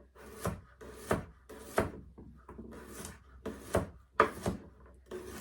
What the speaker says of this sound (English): We're gonna cut up a little bit of cucumber, put some cucumber in here.